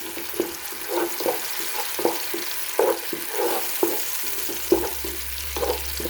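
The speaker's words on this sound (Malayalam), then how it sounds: "നമുക്കിതിലേക്ക് തക്കാളി പേസ്റ്റ് ഒഴിച്ച് കൊടുക്കാം നന്നായിട്ട് മിക്സ് ചെയ്യാം" Tomato paste going into a hot pan of oil and a little ghee for prawn biryani, stirred with repeated scraping strokes over a soft steady sizzle, close and moderately loud, no talking.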